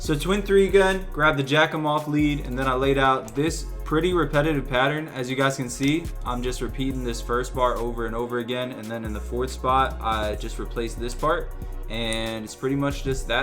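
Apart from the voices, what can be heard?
No everyday noises stand out.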